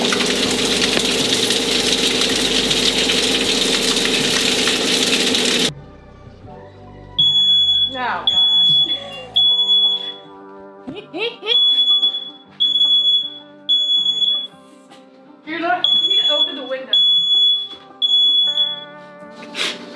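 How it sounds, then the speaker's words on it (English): A very sensitive home smoke detector goes off while fish is being broiled in a rental kitchen, sounding repeated shrill beeps in a steady rhythm after a loud stretch of running noise, with people talking between the beeps. "This is the most sensitive smoke detector ever."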